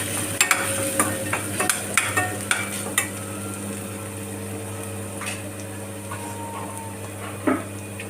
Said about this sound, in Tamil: ஆயிலில் போட்டு கொஞ்சம் நல்லா வதக்கிக்குவோம்